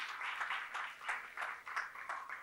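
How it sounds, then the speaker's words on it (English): Audience applause at a national seminar on the traditional Indian arts, a soft, steady patter of many hands clapping together, fairly distant and moderately faint, rising and falling slightly in dense bursts throughout. "If somebody welcomes, you have to clap at least."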